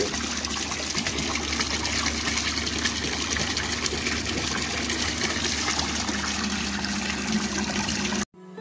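A Shahzad 12-volt DC mobile water pump pushes water in a steady, loud, continuous rushing gush that runs unbroken until cutting off abruptly at the end.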